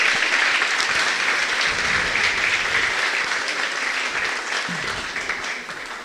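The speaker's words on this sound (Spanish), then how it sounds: "Un aplauso nuevamente para ellos." An audience at a university philosophy congress applauds with sustained, dense clapping, loud and even, slowly tapering off toward the end, with no voices over it.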